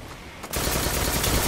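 Rapid burst fire from the Monte Carlo exotic auto rifle in the video game Destiny, a dense, loud stream of shots starting abruptly after a brief quieter lead-in and continuing steadily to the end.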